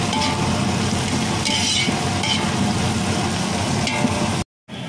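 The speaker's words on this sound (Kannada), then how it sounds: "ಈರುಳ್ಳಿ ಒಳ್ಳೆ ಫ್ರೈ ಆಗಿ" Chopped onions sizzling steadily in hot oil with curry leaves in a large pot, a continuous close crackle with occasional stirring scrapes, cut off briefly near the end.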